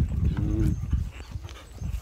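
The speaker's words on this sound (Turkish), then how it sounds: "Burada köpekler var." Kangal mix dogs on a mountain pasture farm, moving and panting close by with low, busy rustling and shuffling throughout; no clear barking stands out.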